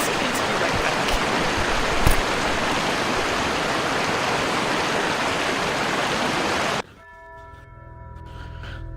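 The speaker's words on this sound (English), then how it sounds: "Ah yes, Loud Waterfall." A loud waterfall in The Talos Principle video game roars as a dense, steady wash of rushing water, then cuts off abruptly near the end, leaving faint tonal ambience.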